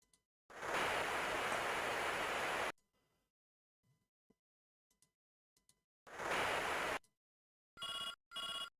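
A telephone rings inside a Commodore Amiga video game as two long, loud burst-like rings. Between them come faint clicks, and two short chirps follow at the end.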